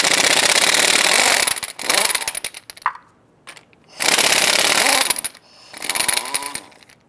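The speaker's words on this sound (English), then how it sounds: "Using our 7/8 socket, we're going to head loosen and remove our lug nuts." Lug nuts come off the front wheel of a Dodge Ram 1500 pickup with a 7/8 socket on a pneumatic impact wrench, loud harsh rattling bursts in three runs separated by brief pauses.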